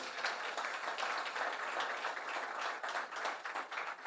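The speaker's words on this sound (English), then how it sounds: "stand up and give her a big round of applause" A conference crowd at the Jamaica Diaspora Conference applauds Jacky Wright, giving a continuous wash of clapping that is fairly quiet and distant throughout.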